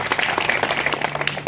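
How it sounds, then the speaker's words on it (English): An audience applauds at a New Jersey LD-16 Democratic campaign kickoff in 2017. Dense, fairly loud clapping runs continuously through the short moment. "Let's give him a round of applause."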